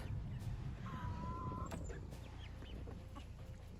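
Chickens cluck softly near a feeder in a backyard flock, with short calls and a drawn-out vocalization over steady low background noise; faint and fairly close, no speech.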